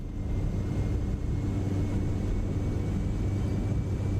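Black Square Caravan turboprop in MSFS 2024 roars steadily during takeoff, a constant loud engine drone with a low rumble and faint high tonal whine throughout.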